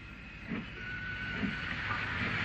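Steam-era local passenger train on the LMS railway near Wellington in the 1950s-60s, a steady distant rolling rumble with faint rhythmic rail beats and hiss throughout.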